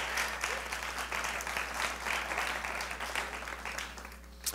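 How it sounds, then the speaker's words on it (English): A crowd applauds to welcome a performer at an evening music event, steady close clapping holding for several seconds over a low constant hum. "Let's give a round of applause"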